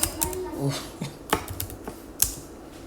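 Clacky keystrokes on a worn computer keyboard tap out in uneven bursts, close and fairly quiet, with a few louder key hits.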